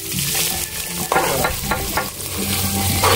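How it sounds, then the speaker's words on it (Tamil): Small shallots fry with bay leaves in a hot pan, giving a steady close sizzle broken by stirring scrapes and clinks throughout. "இப்போ வந்து சின்ன வெங்காயம் சிறுசா நறுக்கி போடுறோம்."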